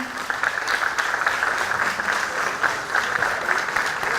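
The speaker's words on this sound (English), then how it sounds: "let's give them a round of applause" A school STEM engineering forum audience gives the panel of speakers a round of applause, a full, steady crowd clapping that runs for over four seconds with slight swells and no talking.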